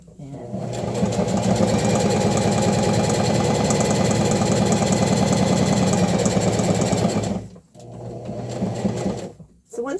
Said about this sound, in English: I reset my sewing machine to straight stitch. And stitches forward, so back stitching